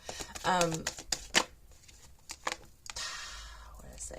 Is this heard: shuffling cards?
yes